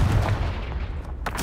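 A Confringo fire spell blasts off in the video game Hogwarts Legacy. It lands as a loud, booming burst with a rumbling tail, and a sharper crack follows at the end.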